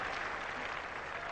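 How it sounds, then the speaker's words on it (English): A cricket crowd at a 1981 England versus Australia Test match applauds a fifty partnership, giving a brief, steady wash of distant clapping. "big applause for the 50 partnership"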